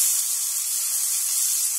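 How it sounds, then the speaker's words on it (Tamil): Tomatoes sautéing in a pan for vegetable kurma give off a steady, even sizzling hiss that stays fairly loud throughout, with no talking. "தக்காளி வதங்குற அளவுக்கு வதக்கிடுங்க."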